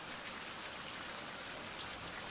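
Steady rain falls in the survival crafting and exploration game Survival: Fountain Of Youth, a soft, even patter of drops on surfaces throughout with no speech.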